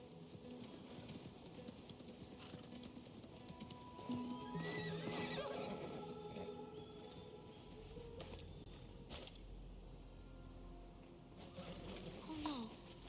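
A horse whinnies in Assassin's Creed Mirage with a rising, shaky call over a busy ambient background, with faint bird sounds and other environmental noise around it.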